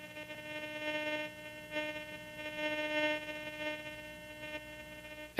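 Garrett GTI 2500 metal detector in all metal mode giving a steady buzzing threshold tone. The tone swells and dips slightly in loudness, is heard alone, and ends with a soft knock.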